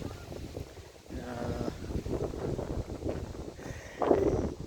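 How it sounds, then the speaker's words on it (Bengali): Strong wind blowing across a lakeside in hot weather, a steady rushing buffet with gusty rumble on the microphone, loudest near the end, with faint voices mixed in. "প্রচুর বাতাস এই গরমের মধ্যে, একদম মন শীতল করার মতো বাতাস"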